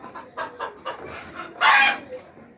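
A barnyard chicken gives a short burst of loud clucking and squawking near the microphone, rising out of quieter background chatter and fading after about half a second.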